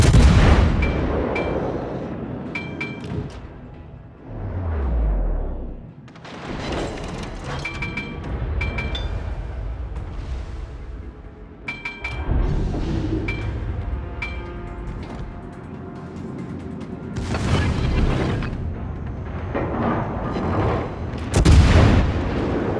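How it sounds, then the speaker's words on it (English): Heavy naval gun salvos from warships in the World of Warships game, with repeated loud booms and blasts that roll and echo, interspersed with game effects over about twenty seconds. "Concentrate fire on the enemy warship."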